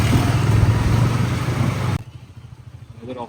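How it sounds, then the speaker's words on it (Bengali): A motorcycle engine runs loud and close, then cuts off abruptly, leaving a faint rumble while being parked at the ISKCON temple in Siliguri. "বাইকটাকে পার্ক করে তারপর আমরা যাবো।"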